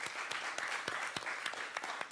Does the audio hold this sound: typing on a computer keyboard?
no